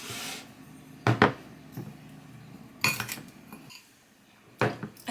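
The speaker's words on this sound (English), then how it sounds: "Then you're going to mix." A spoon clatters and knocks against a bowl while vegan bun dough with ginger is mixed, with a few bursts of clinking separated by quieter stirring, close up.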